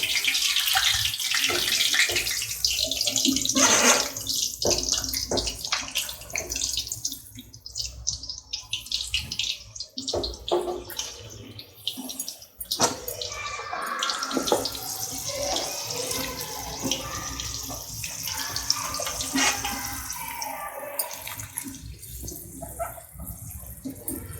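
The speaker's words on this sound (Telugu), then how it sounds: "కలిపి పెట్టుకున్న కార్న్స్ని మనం ఇలా డీప్ ఫ్రై చేసుకోవాలి" Sweet corn kernels coated in cornflour deep fry in hot oil for crispy corn, giving a loud, continuous close-up sizzle and crackle that swells and thins slightly throughout, with no speech over it.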